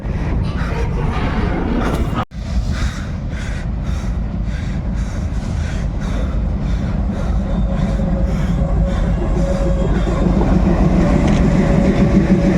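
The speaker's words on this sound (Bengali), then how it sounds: "এই মুহূর্তে পাথরবর্তী গাড়ি একদম ব্রিজের ভিতরে প্রবেশ করছে" A heavy stone-loaded freight train rumbles steadily across the Nashipur rail bridge during a load test, a loud continuous low roar with rhythmic clatter and clanking from the wheels.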